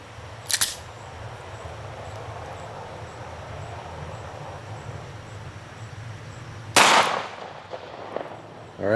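A Kel-Tec pistol fires a RIP round outdoors, a single sharp loud report near the end preceded by a faint click, over a steady low background rumble.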